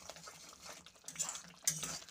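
Spices with yogurt, salt and chili powder being stirred and sautéed in a pan for a potato and soybean curry: faint, soft scraping and clinking utensil strokes, close by and quiet.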